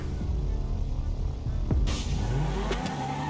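A Dodge SRT Viper and a Nissan Skyline drag race in GTA 5, with a loud, continuous engine roar whose pitch climbs and drops through gear changes, close and up front.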